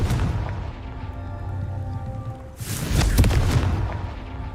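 Confringo spell from Hogwarts Legacy, a low booming blast that bursts out midway and fades into a rumbling, crackling tail over steady game ambience.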